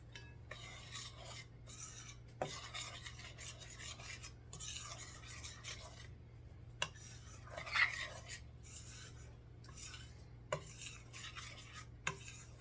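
Peach cobbler batter mixed with whole milk in a bowl, a faint scraping stir with light clinks of the utensil against the bowl, repeated in short strokes over a low steady hum.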